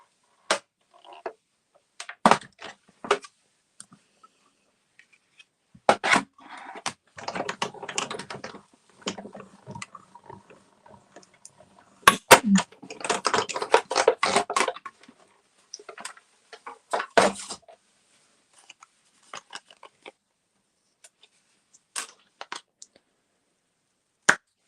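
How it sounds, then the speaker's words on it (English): A paper die run through a manual cut and emboss machine for a Stampin' Up! card gives scattered clicks and crisp crunching bursts from the crank and rollers, close and fairly quiet, with gaps of near silence. "So I'm going to run that through my cut and emboss."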